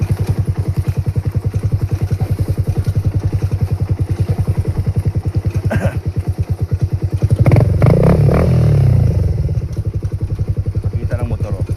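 A motorcycle engine idles with a steady low rumble, then revs louder for a couple of seconds before settling back, with some clatter alongside.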